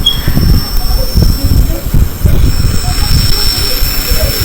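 A train running on rails with heavy low rumbling and clattering wheels, loud and close, with a thin squealing whine held above it throughout.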